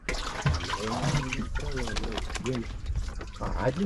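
A steady rush of backwater is drawn up aboard a fishing boat, a continuous gushing, pouring wash close by that runs under a voice talking throughout.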